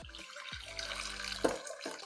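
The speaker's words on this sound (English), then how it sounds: "I'm just going to pour that into my measuring cup" Strong kombucha tea being poured into a measuring cup, faint close trickling and splashing liquid with a few gurgling surges, quiet and alone.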